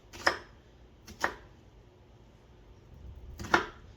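A kitchen knife slicing yard long beans into long, thin slices on a cutting board: three crisp, separate cuts spaced about a second or two apart, close and fairly quiet with no talking.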